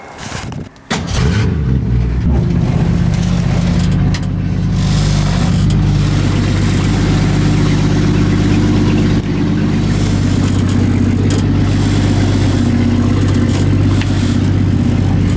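A 1965 Ford Mustang engine runs steadily and loud throughout, with a deep rumbling idle and slight shifts in pitch as it backs slowly down a driveway.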